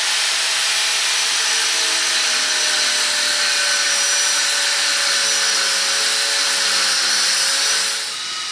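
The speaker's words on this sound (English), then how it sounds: "we got all our holes drilled" A drill bores holes through steel brackets for a spice rack, producing a continuous loud, bright whine and grinding that holds steady for several seconds before tapering off at the end.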